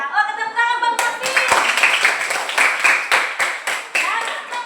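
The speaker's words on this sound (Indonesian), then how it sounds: "Oh, tepuk tangan Bang Marvin." A classroom of students claps for a classmate, a dense, steady burst of many hands that starts just after a brief spoken line and carries on loudly to the end.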